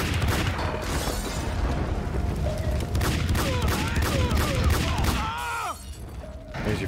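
Rapid bursts of gunfire from the Max Payne 2 video game crackle densely for several seconds, loud and close, with booms and ricochet-like zips, ending in a short lull and a final shot.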